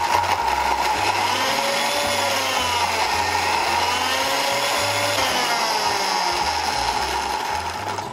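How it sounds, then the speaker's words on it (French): A blender purees a carrot and ginger smoothie with turmeric and toasted almond milk, its motor whirring loud and continuous throughout with a rhythmic low chopping pulse underneath. "Vous mixez le tout de manière à ce que ce soit bien broyé."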